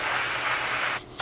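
An airbrush hisses as it lays a light, misty coat of paint on a 1/32 scale Tamiya Mitsubishi A6M2b Zero model. A close, steady spray lasts about a second and then cuts off abruptly.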